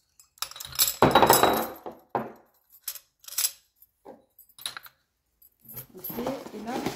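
Small spoons clink and rattle in short, separate bursts as they are handled nearby, with quiet gaps in between.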